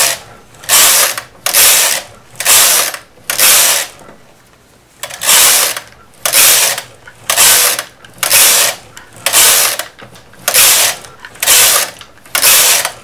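A knitting machine carriage is pushed back and forth across the bed, making loud rhythmic whooshing, clattering passes roughly once a second, with a brief pause partway through and no talking.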